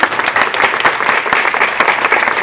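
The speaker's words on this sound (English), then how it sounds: "So let's give one more round of applause for Roger." Loud, close applause from a workshop audience, many hands clapping in a dense, continuous wash with occasional sharper individual claps, sustained throughout the short burst.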